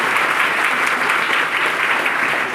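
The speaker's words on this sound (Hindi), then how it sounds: "जो सर के लिए एक बार जोरदार ताली आप लोग बजाएंगे" Steady, dense applause from an audience, loud and continuous throughout with no pauses.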